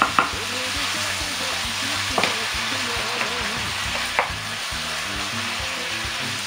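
Chicken strips browning in a hot pan for caramelised chicken with pineapple, a steady close sizzle and fry with a few sharp stirring knocks, no voices.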